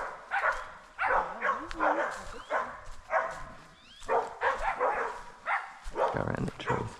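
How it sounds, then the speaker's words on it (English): Small house dogs, readied for a pig hunt, yip and bark in excited bursts close by, with whimpering between barks and people's voices mixed in. "a couple of these little house dogs want to go for a run"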